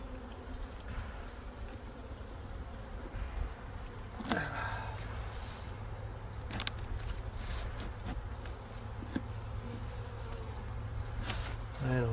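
Honey bees buzz around hive frames in an apiary, a dense continuous drone close by with individual insects passing near, plus occasional knocks and handling sounds.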